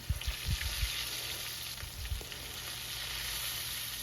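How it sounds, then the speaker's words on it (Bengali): Rohu fish fries in hot mustard oil with a steady bright sizzle, a few low thumps and bubbling pops near the start, then constant crackling. "সর্ষের তেল খুব ভালো করে গরম করে এখন মাছগুলোকে ভেজে নিতে হবে"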